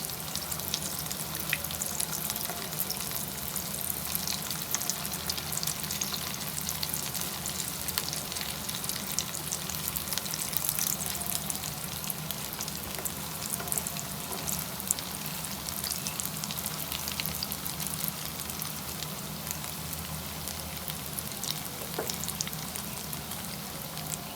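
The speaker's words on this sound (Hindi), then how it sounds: "देखिए फ्राई हो गए, इनको पलट देते हैं।" Vegetable chicken rolls fry in hot oil, a steady, close crackling sizzle throughout with occasional soft scrapes and taps as they are turned in the pan.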